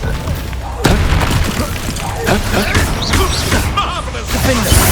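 A Bombarda blast spell cast in Hogwarts Legacy, a loud booming burst thrown into dense, continuous game noise, with a voice calling out over the crashing effects.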